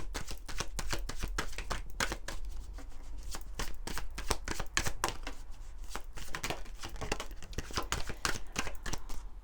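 Oracle cards being shuffled by hand, a rapid continuous run of crisp riffling flicks close to the microphone, alone without talk.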